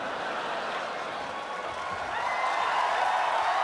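A live podcast audience at RTX 2014 cheers and applauds, a steady wash of clapping and crowd noise that swells slightly toward the end.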